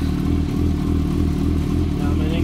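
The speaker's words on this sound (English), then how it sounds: "I'm going to turn on the bike" Kawasaki ZX10R Gen2 sport motorcycle engine running after start-up, a loud, close, steady pulsing idle with a regular throbbing beat that carries on evenly throughout.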